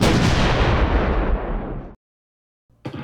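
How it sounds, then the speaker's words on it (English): Cannons fire from the walls of a French Foreign Legion fort in a video game, giving a loud, booming blast with a long rumbling decay, then silence before another sharp report begins. "We also have a number of cannons on the walls. These guns deal deadly amounts of damage to the enemy."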